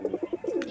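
Pigeons of a fancy breed, kept in a home loft, cooing close by, a quick series of soft rounded coos repeating several times in under a second, with no talk.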